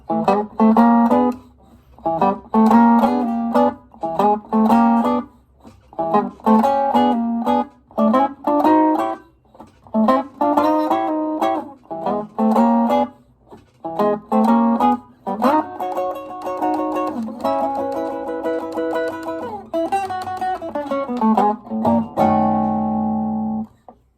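Chicago blues electric guitar, early electric blues style, plays a full verse with short chord stabs and picked phrases in a steady shuffle, shifting to sliding ninth-chord figures and ending on a held chord, loud and close with no talking.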